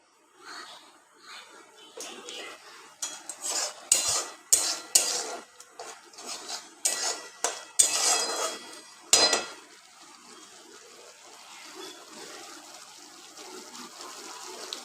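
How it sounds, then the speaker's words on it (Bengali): Paneer masala with a splash of water being stirred and sautéed in a pan, with sharp bursts of sizzling and scraping in the first nine seconds that settle into a quieter, steady simmer. "আর একটু সামান্য সামান্য একটু জল দিয়ে এটাকে ভালো করে কষাবো"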